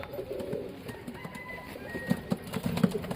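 Pigeons at a farm give repeated low coos with a few sharper calls, close and moderately loud over a steady background hum.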